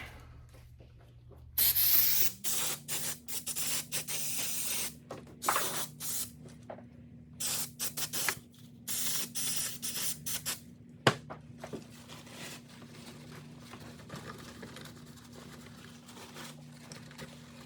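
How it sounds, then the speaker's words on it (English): 3M Electro-Wash contact cleaner sprayed from an aerosol can onto a Cyclo polisher, a series of sharp hissing bursts of varying length over a low steady motor hum, with a brief knock partway through. "3M contact cleaner, electro wash."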